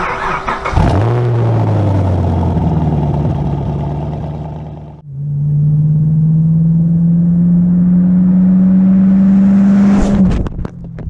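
A Chevrolet Camaro V8 engine turns over and fires up with a sharp rev, settles into a loud, steady idle, then revs again and drops away, heard up close with no talk.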